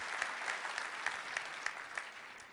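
A smaller, fading round of clapping from a conference audience at Enterprise Connect 2016, with a handful of distinct, fairly regular claps spaced about a third of a second apart over a soft crowd patter.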